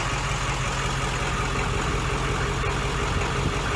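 A bus with a 7.3 turbo diesel engine idles steadily nearby, a continuous low, even rumble with no talk over it.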